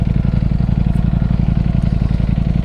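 A Ducati Panigale V4 motorcycle engine idling close by, a loud, steady, rapid throbbing pulse with deep rumble, constant throughout with no revving and no voices.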